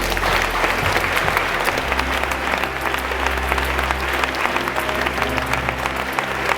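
A church congregation applauds the Lord during a Sunday worship service in Abidjan. The dense, loud clapping runs continuously over a sustained low musical drone.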